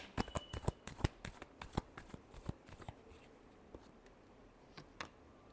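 Tarot cards being shuffled, a quick run of crisp riffling snaps and flutters that thin out into a few scattered flicks, close and fairly quiet with no talking.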